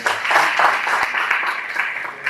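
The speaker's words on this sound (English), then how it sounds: "Please let's give him a round of applause." An audience at a university public lecture on journalism applauds the acting rector, a dense, even wash of clapping from a crowd that holds steady for a couple of seconds.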